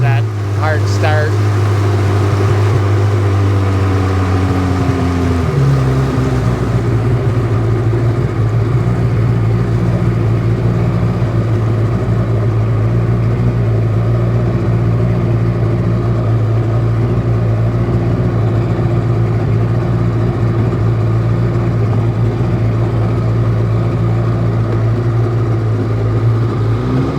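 A Seadoo 787 RFI jet ski engine with an overheating fault runs with a loud, steady drone that shifts to a lower idle pitch after a few seconds and then holds constant.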